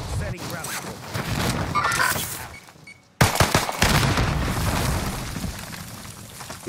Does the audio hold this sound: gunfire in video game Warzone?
yes